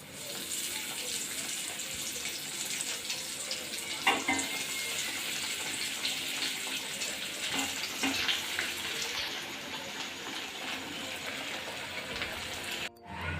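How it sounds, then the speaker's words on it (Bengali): Katla fish chops fry in hot oil with a steady, close, broadband sizzle and hiss that carries on unbroken, with a few faint pops and no talking. "বাকি চপগুলি আমি এইভাবেই ভেজে নিচ্ছি।"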